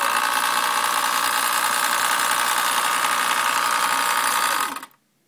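A sewing machine couching yarn onto fabric runs in one steady close whirring, rapid stitching burst for almost five seconds and then stops abruptly into quiet.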